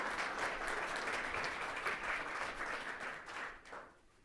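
A lecture audience applauds to welcome Professor Kent McNeil at a Law Foundation of Saskatchewan event, dense sustained clapping for about four seconds before fading out.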